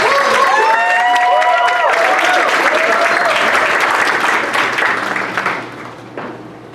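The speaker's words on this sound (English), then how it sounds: "Yes, round of applause." Loud audience applause and cheering at a college student leadership academy ceremony, dense clapping with whoops and voices from a close crowd that gradually thins and fades toward the end.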